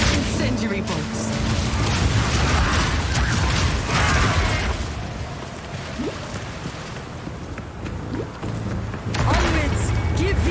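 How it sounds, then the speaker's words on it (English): Incendiary crossbow bolts fired in the Path of Exile 2 game, dense mechanical clanks, fiery bursts and booms layered over a continuous combat din, with a few sharper impacts and swishes standing out near the end. "Incendiary bolts"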